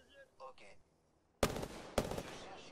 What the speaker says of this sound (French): Oh, tu tires.